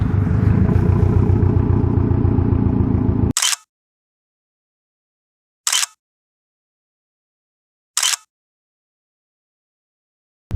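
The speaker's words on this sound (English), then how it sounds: "Some of that Subi rumble." A Subaru STI engine gives a deep, pulsing rumble close by for about three seconds, then cuts off to silence, broken only by a few sharp, isolated clicks.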